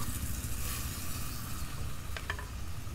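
Hot water carrying leftover marinade poured into a hot pan of marinated food during Bengali village-style cooking, giving a loud, continuous close sizzle with a couple of brief sharp clinks near the end.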